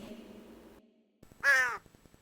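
Cartoon crow in an animated Telugu fable gives one loud, close, harsh caw after a moment of quiet, with soft music before and after.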